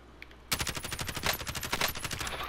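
Rapid automatic gunfire in a video game shootout starts abruptly after a short quiet stretch and continues as a dense, loud burst of repeated shots to the end.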